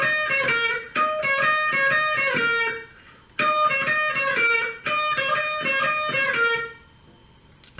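Guitar picking out the piano interlude of a song, bright repeated notes high on the neck in two matching phrases split by a short pause, close and clear with no voices.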